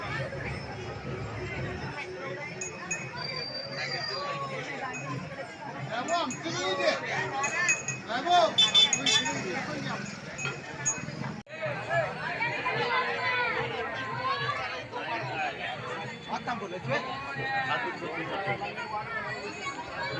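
A busy crowd mills around Ganesh idol stalls during Ganesh Chaturthi, with overlapping chatter and voices close by, steady throughout with brief louder bursts and occasional clinks.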